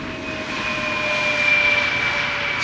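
A KLM airliner touches down at Schiphol Airport, its engines a steady, loud roar with a sustained whine that builds slightly toward the middle and holds to the end, with no talking.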